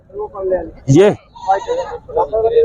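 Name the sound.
Sindhi goats bleating at market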